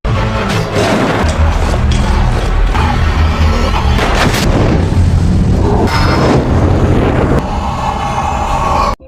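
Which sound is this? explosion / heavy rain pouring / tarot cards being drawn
explosion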